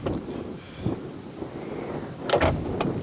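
A door closing on a red 1991 De Tomaso Pantera 90 Si, heard as a brief thump and rattle near the end amid outdoor wind rumble and handling noise.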